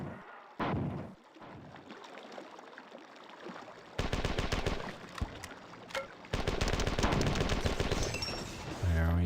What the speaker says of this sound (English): Just spam grenades from across the map.